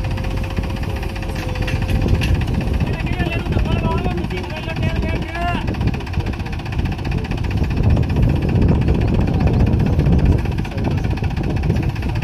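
A Mahindra 585 DI XP Plus tractor with a fully loaded trolley, stuck and being pulled out with the help of a second tractor, drones loudly and steadily, with a mid-pitched engine hum and vibration running throughout.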